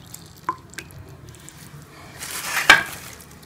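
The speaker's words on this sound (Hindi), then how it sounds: "दबा के इसका जो एक्स्ट्रा पानी है वो निकाल लेना है।" Soaked semolina bhalle for dahi bhalla are squeezed by hand to press out the extra water. A couple of soft wet clicks come first, then a louder, wetter squish with dripping near the end. Nobody speaks.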